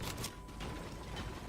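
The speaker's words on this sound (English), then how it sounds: "Make sure I got all my bullets loaded up." Mechanical clicking and ratcheting of a gun being reloaded in Fortnite, a short run of close, crisp clacks and clicks within a busy game soundscape.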